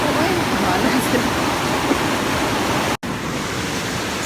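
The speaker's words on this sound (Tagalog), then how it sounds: "sobrang malakas na po yung alon guys" Strong ocean waves break against the rocks at Malingin Rocks on the Cebu coast, a steady loud roar of surf with no gaps, interrupted only by a short drop in the sound.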